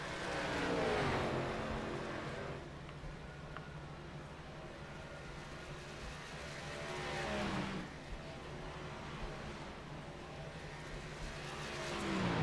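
ARCA stock cars racing at Texas, a continuous roar of engines heard from a distance, swelling as cars sweep past around the 1- and 7-second marks, with no talk.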